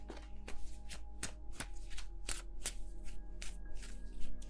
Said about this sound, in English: Can I please shuffle my cards?